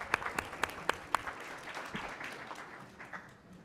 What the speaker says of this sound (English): let's give a warm round of applause to our distinguished guests